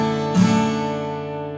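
Single strummed guitar chord with one string muted, struck near and then left to ring and slowly decay on its own.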